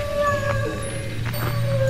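A dog in the woods howls and whines in long, wavering tones that rise and fall, close and fairly loud over a low steady hum, with a brief yip-like break midway.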